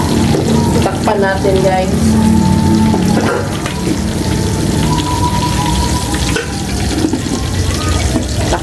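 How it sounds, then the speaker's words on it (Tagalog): Milkfish (bangus) frying in hot oil in a pan, a steady crackling sizzle with popping splatters running throughout, loud and close, with a person briefly talking over it. "So ingat lang sa pagprito guys, kaya ayun, ilansik ang mantika."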